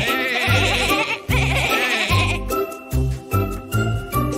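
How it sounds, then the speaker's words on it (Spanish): Sheep bleating in a children's song: a series of wavering, nasal bleats comes in short regular bursts, loud and close, set against a light, tinkling musical backing. "Así bala la oveja."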